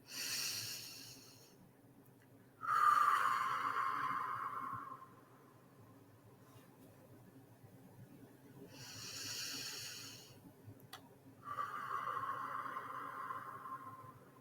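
Slow, deep relaxation breathing practiced for labor: a few long, breathy inhales and sighing exhales, close and soft, separated by quiet pauses, with no talking.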